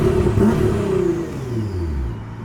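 A Nissan GT-R engine revs, its tone swelling then dropping back as the throttle eases, close and loud, with no voices.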